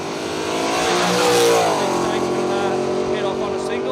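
A drag race car revs hard at Willowbank Raceway in Australia, its engine note climbing to a loud peak and then settling into a steady, throbbing idle close by.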